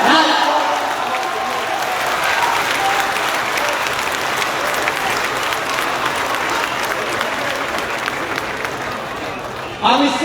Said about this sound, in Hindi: इससे बड़े गर्व की तालियां चाहिए